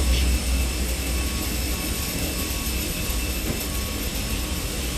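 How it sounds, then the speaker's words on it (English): A loud, steady jet auxiliary power unit drones on an EasyJet airliner parked on the ramp in a flight simulator, a constant broadband roar with a whining tone that holds without a break. "Quite loud over here, so let's get done with the APU straight away."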